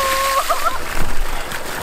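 Strong pumped water drawn from a deep river gushes out of a pipe, a loud continuous splashing roar with a brief whistling tone at the start.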